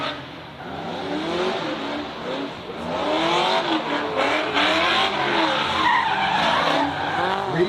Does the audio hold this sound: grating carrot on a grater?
no